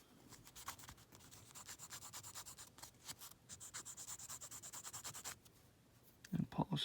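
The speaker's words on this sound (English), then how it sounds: "And then you can even go in with the micro mesh." Micro mesh pads rubbing steadily over a seam-sealed finish to polish it out, a continuous close scratchy sanding sound with fast back-and-forth strokes, ending in a few louder knocks.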